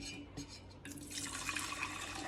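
Hot sugar syrup poured into butter while making lemonade, a soft liquid trickle and splash that grows steadier and brighter after the first second, fairly quiet and close with no talk.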